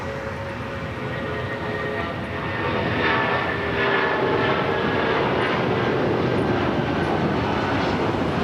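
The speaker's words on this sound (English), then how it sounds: "Next takeoff is United Airlines Flight 2724 heading to Denver," A United Airlines Boeing 757-300 takes off at LAX, bound for Denver, with a loud, steady jet roar that builds slightly and holds throughout. No voices are heard.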